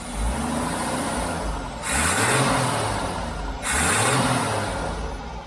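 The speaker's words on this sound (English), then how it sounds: "And speed the engine up." A Jeep CJ-7 engine revs up twice, rising pitch climbing over a steady idle rumble, each surge loud and close with a brief settling between.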